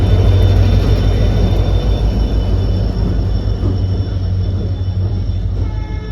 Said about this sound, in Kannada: 11039 ಮಹಾರಾಷ್ಟ್ರ ಎಕ್ಸ್ಪ್ರೆಸ್ ಈಗ ಮಿರಾಜ್ ಜಂಕ್ಷನ್ ಬಂತೀಗ.